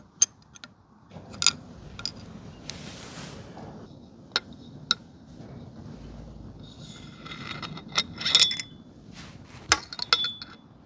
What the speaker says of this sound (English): Now we can remove the bolt on the bottom.